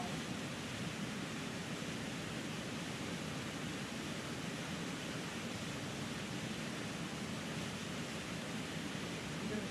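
A Catskills waterfall roars in a steady, even wash of falling water, unbroken and moderately loud throughout, with no voices.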